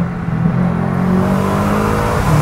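A tuned BMW M5 F10 accelerates along a road, its engine holding a loud, steady, continuous roar from inside the car.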